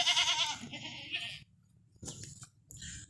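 A large, lively desi sacrificial goat bleats loudly and close at the start, then gives shorter bleats after a brief pause, with farm animal noise in the background.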